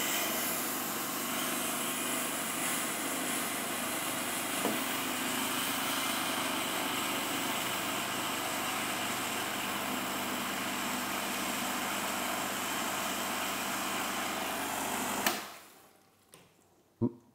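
A Lelit Glenda PL41 espresso machine runs water through its boiler to cool it, producing a steady, loud pump hum and hissing flow that continues for about fifteen seconds before cutting off, close and without talk.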